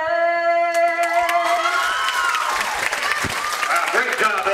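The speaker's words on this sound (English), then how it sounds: "Give her one more round of applause." A crowd in a gym at a girls' basketball game claps and cheers steadily after the national anthem ends, with the anthem's last sustained note fading out as the applause swells.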